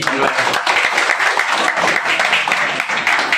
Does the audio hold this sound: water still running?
no